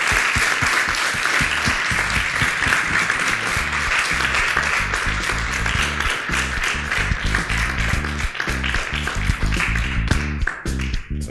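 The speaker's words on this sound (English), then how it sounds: "I think we should do a strong clap to thank you to Hartmut." A lecture audience gives a strong, sustained round of applause to the filmmaker Hartmut Bitomsky at the end of a masterclass at ESAD.CR, with dense, loud, even clapping that lasts throughout and thins out only at the very end.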